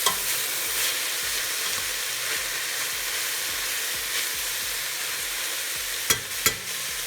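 Chopped vegetables sauté in a pot, giving a dense, continuous sizzle close up, with a couple of sharp clinks of a utensil near the end and no voices.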